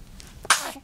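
A single short, sharp sneeze from a two-week-old baby bursts out near the end, bright and breathy, with a soft murmur just before it.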